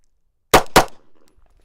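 Two sharp, loud handgun shots fired in quick succession at a shooting-range target, each a hard close crack with a short decaying tail.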